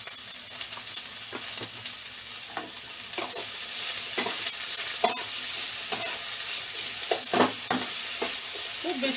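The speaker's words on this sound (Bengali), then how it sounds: "খুব বেশি ভাজবো না" Vegetables for palak bread pakora fry and get stirred in a pan, a steady sizzle with repeated scraping strokes of the spoon, close and alone with no talk.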